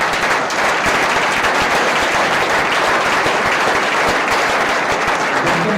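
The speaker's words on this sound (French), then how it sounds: "J'aimerais qu'on applaudisse les 3 experts d'avoir joué le jeu." An audience at a startup pitch event applauds three experts with dense, sustained clapping that stays loud and even throughout, close and with no talk over it.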